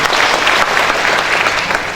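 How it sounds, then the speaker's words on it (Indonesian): Loud, dense applause from a seminar audience, a continuous roar of many clapping hands, close and sustained through the whole two seconds. "Tepuk tangan untuk Anda semua."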